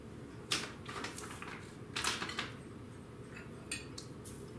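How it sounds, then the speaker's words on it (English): A spoon scrapes and knocks against a mixing bowl as eggs are stirred by hand into keto chocolate donut batter, with a few sharp clatters over a steady background hiss. "Now I'm going to stir in 4 eggs."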